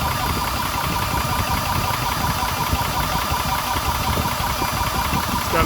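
A ToAuto PCP 4500psi air compressor runs with a continuous, loud mechanical drone and a fast knocking pulse, steady throughout without pauses.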